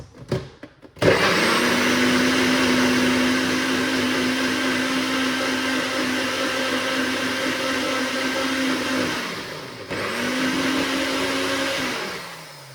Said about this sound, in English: So let's blend it up.